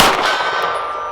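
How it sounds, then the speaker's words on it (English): A 9mm round from an HK USP pistol strikes a steel gong target, giving one sharp loud clang that rings on and fades over about a second. "Silver gong."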